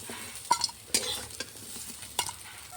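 Drumstick stems and bitter gourd fry in a pan with a soft, steady sizzle, broken by several sharp scraping and stirring clacks spaced irregularly, close and fairly quiet.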